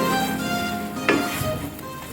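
Ginger-garlic mixture stirred in a pan for butter chicken at a camping cookout, a steady close sizzle with scraping strokes of a spoon over about two seconds, no voices.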